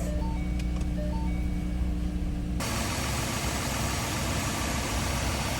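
A 2012 Ford Mustang Base idles steadily with the heater on full and the AC off after its coolant was drained during a water pump replacement. The engine drone is constant and close, and it broadens into a louder, noisier rumble partway through.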